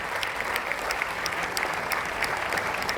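Dense, steady applause from a large audience welcoming Dr. Jayesh Patel on stage, sustained at an even level for the full stretch without a break.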